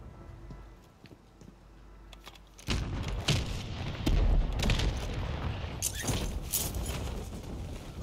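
Airstrike explosions in a Warzone battle royale match land as a deep boom followed by a rumbling barrage of blasts and crackling debris, loud and close, continuing for several seconds with no talk over it.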